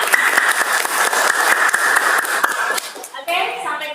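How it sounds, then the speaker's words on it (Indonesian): Classroom applause from students at the close of a math lesson, a dense patter of many hands clapping with a sustained background hum, ending abruptly as a voice speaks over the tail. "Beri tepuk tangan untuk kita semua."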